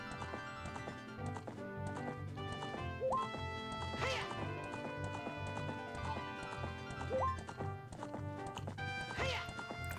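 A horse gallops across Hyrule Field in The Legend of Zelda: Ocarina of Time, with steady rhythmic clip-clop hoofbeats over game music and a couple of sharp whinny-like accents.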